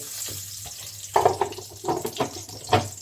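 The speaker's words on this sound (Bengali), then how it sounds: "আর এই কালো জিরা ফোড়ন" Black cumin (nigella) seeds crackle and sizzle in a small amount of hot cooking oil, close by in a home kitchen, with irregular bursts of spitting over a steady low hiss.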